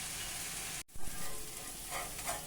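Kallappam batter cooks in a pan with a steady close sizzle and frying hiss, briefly interrupted by a short gap before continuing.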